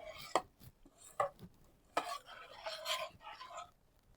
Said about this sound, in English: now we're going to go ahead and just stir that in